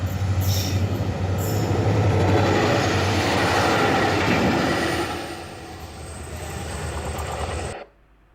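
A train rolls loudly over a bridge, a dense steady rumble of wheels with a squeal, easing a little before cutting off abruptly at the end.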